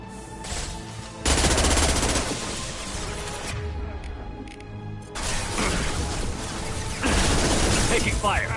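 Rapid gunfire bursts from Mass Effect 2 combat, loud and sustained across the clip, with a short lull in the middle before heavy firing resumes alongside voices.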